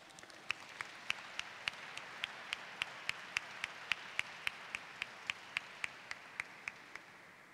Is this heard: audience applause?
yes